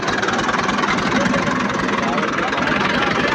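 A new tube well's engine runs loud and close with a steady throbbing, rumbling drone from start to finish, and voices are faintly mixed in.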